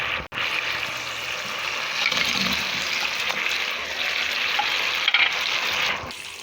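Chicken wings going into a boiling spicy honey mixture, giving a steady close bubbling sizzle with a soft thump near the start.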